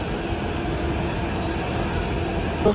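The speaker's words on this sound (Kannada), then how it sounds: "ನಮ್ಮ ಟ್ರೈನ್ ಹೋಯ್ತು ರೀ" A steady, low rumble of a metro train departing and running along the track, even and continuous with no voices.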